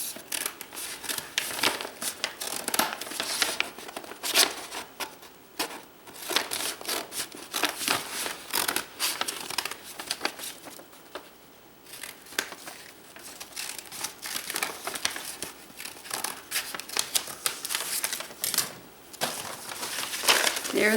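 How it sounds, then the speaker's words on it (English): Scissors cutting long, skinny bunny ears out of paper or card for an Easter headband, a steady run of close crinkling snips and rustling with no talk. "And I'm going to cut out the ears."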